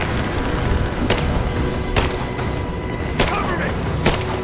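Gunshots crack in the Rise of the Tomb Raider video game amid a busy combat soundscape, with about four sharp, loud bursts spaced roughly a second apart over a constant rumbling background.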